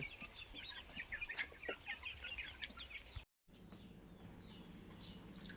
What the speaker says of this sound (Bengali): এই যে মুরগিগুলো একটু ছেড়ে দিয়েছে